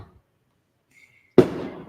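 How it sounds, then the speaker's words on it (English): A single firework bursts with a sharp, sudden bang and brief crackling tail, fairly close, after a near-silent stretch with faint sounds just before. "that's what the fireworks are for"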